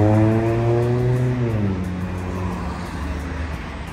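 Cars at a big city intersection in Nijmegen, the Netherlands, a steady near engine drone with one vehicle's tone sliding down as it passes, traffic rumble continuing throughout with no talking.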